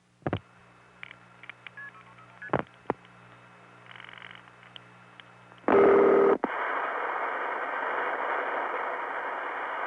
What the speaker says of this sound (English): I'll dial 516-212-6341.